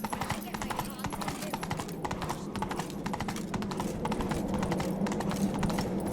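Horse hooves galloping in The Witcher 3, a steady fast drumming of clip-clop beats that runs continuously and loud under game ambience and faint speech.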